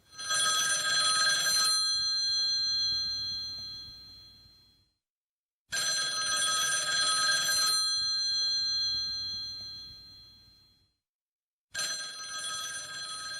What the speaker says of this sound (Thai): โอ้โหโทรศัพท์คลาสสิกมากเลยเสียงนี้